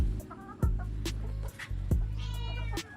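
Chickens cluck and a cat-like meow rises between them, close by, with a steady low hum underneath and no talking.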